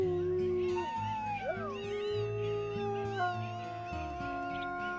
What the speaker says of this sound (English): Let's do a little howl.